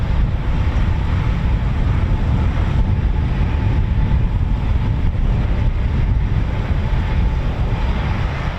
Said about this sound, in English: More Typhoons heading back.